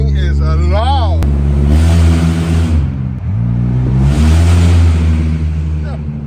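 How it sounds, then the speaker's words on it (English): A 2005 Honda Accord with its catalytic converter stolen roars loudly when revved, two strong surges rising and falling, while someone talks over the engine near the start. "this thing, yo, this thing is super loud"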